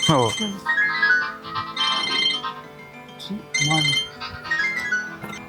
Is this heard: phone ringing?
yes